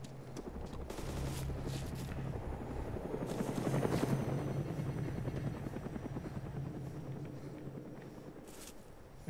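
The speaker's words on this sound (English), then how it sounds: "those shots are coming from a semi-automatic, probably this heli" Rapid semi-automatic gunfire in the DayZ mod video game rattles in steady bursts over the constant drone of a helicopter's rotor, which fills the whole stretch at moderate distance.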